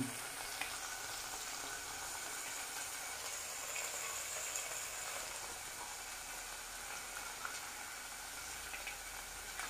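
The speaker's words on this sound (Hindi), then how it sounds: "फ्राय करून घ्यायचं आहे तेलामध्ये चांगलं पाणी सुटेपर्यंत" Steady crackling sizzle of masala frying in oil in a pan for a Maharashtrian curry, continuous and fairly close with no talk.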